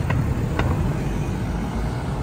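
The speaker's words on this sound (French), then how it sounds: "au moment où il y a une voiture" A car passes along a street in Montreal, a brief close whoosh of engine and tyre noise over steady urban traffic hum.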